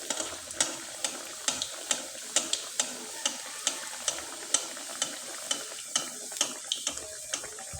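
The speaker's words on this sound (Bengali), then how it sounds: "এবার পিঠাগুলোকে ভেজে দেখিয়ে দিচ্ছি।" Pitha cakes fry in hot oil, giving a steady soft sizzle broken by regular, evenly spaced clicks and taps from stirring, close and alone.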